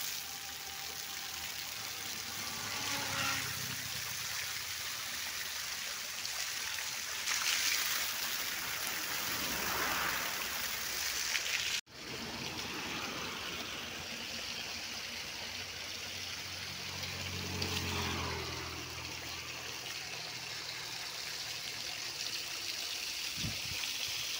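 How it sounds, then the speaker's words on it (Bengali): Water from a hose spraying over stored potatoes in a potato cold-storage shed, a steady rushing splash and trickle that swells and fades at times, with a brief cut partway through. "এভাবে গোটাটাই জল মারতে হবে আলুর মধ্যে।"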